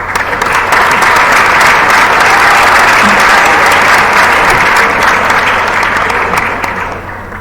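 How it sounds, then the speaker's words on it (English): A symposium audience at an assembly breaks into loud, sustained applause welcoming a speaker, dense steady clapping that holds for several seconds and then begins to fade. "let's welcome Robert with one warm applause"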